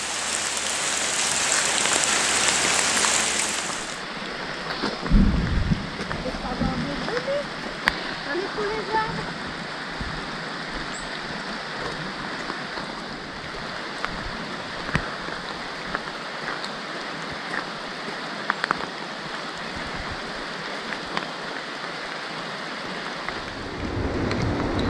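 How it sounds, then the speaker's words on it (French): Heavy rain pours steadily on the forest of Arenal park in Costa Rica, a dense, even wash of patter with scattered nearby drips and a louder burst early on, continuing unbroken for the whole stretch. "Marche sous la pluie."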